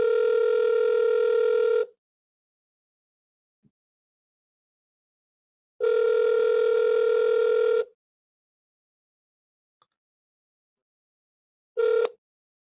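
A telephone handset plays repeated ringing tones while a call is being placed: three loud two-second bursts separated by long silent gaps, with the last burst cut short.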